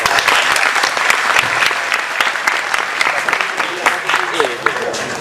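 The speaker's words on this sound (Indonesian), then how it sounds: "Tepuk tangan untuk mereka." Dense, loud applause from an audience at a live event in Jombang, with a thick wash of overlapping claps running steadily through the whole stretch.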